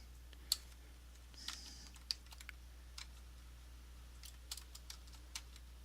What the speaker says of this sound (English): Now I typed in the word in the dictionary.